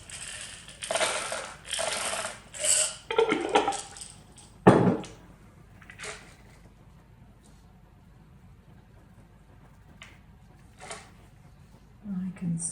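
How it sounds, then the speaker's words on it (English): Sweets rustle and clatter as they drop into a folded paper Christmas treat box hung as a tree decoration, several crinkly bursts and a single louder thump, then quieter handling with a voice talking. "Now I can put some sweets in here."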